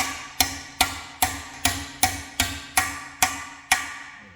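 Hammer blows land one after another while a CBR swingarm is fitted onto a Honda CB1100F, about ten sharp metallic strikes at a steady, even rhythm, each ringing out briefly before the next, with no talking.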